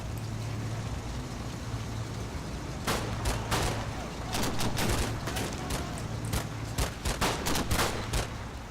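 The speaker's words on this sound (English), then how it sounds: "Get that gun set up, we need some covering fire." Machine gun covering fire in the Combat Mission: Fortress Italy war game, with repeated loud bursts of automatic fire from about three seconds onward over a steady engine-like hum and battlefield ambience.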